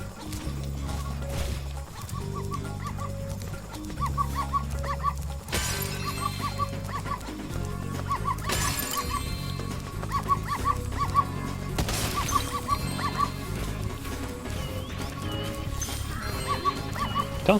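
A dog barks and yips repeatedly in the video game Spyro Reignited Trilogy (Spyro: Year of the Dragon), loud short bursts over steady game music and ambience, with occasional sharp shattering effects.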